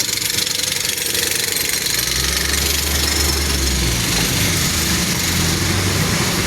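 A motorized tricycle loaded with flowers runs with a loud, continuous engine chug and rattle, its low throb swelling briefly midway, with no voices.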